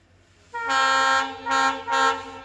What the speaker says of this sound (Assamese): ট্ৰেইন আহি পালেহি